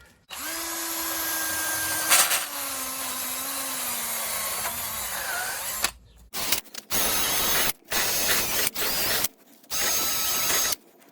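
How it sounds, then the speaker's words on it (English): A power drill spins a wire brush on a 2014 Kia Sportage 2.0 CRDI tie rod, whining steadily for several seconds, then scrubbing in short loud bursts with brief pauses between them. "I'm gonna use a metal brush on the drill"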